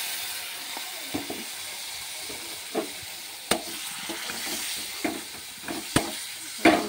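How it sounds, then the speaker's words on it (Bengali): Spice masala being sautéed in a pan for fish head curry, a soft steady sizzle with intermittent spatula scrapes and taps against the pan, close and fairly quiet. "মশলাটাকে ভালো করে কষাবো, কষিয়ে দেখাচ্ছি তোমাদেরকে"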